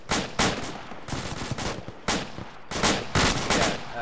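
Bursts of rapid gunfire from a military-style operation in a game, several loud volleys of automatic shots separated by brief pauses, close and dominant.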